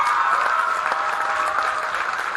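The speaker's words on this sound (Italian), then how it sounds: "facciamo un grosso applauso a Fabrizio." Theatre audience gives a big round of applause during a live show, dense continuous clapping from a large crowd, steady and even, with no talking over it.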